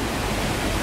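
Steady, dense roar of the Tegenungan Waterfall in Ubud, Bali, heard from close by as a continuous broadband rush with no pauses and no voices.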